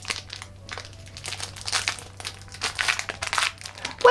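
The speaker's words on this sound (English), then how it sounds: "This is really hard to unwrap." Sticky paper wrapping crinkles and rustles close by as a South African sweet is picked at and peeled open in irregular bursts, without any talking.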